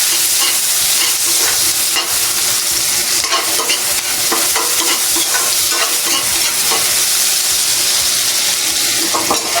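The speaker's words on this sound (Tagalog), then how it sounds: "Lagay na po agad natin yung sibuyas at bawang kasi para sabay-sabay na lumabas yung aroma nila." Onion and garlic sauté in a small frying pan with a loud, continuous crackling sizzle, joined by repeated scraping stirs of a utensil against the pan, close-up and without voices.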